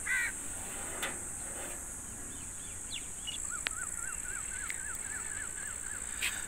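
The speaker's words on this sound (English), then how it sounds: "Look at these crows, they are going back to their nests." Crows returning to their nests over village fields give a quick series of about a dozen evenly spaced caws, moderately distant, against a faint hiss of outdoor ambience.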